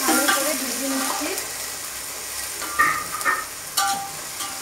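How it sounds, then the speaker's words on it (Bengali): Vegetables and rice fry in ghee in a pan for Bengali-style veg fried rice, a soft steady sizzle with a few clinks and scrapes of stirring. "আমি এটাকে ঘিয়ের মধ্যে ভালো করে ভেজে নিচ্ছি।"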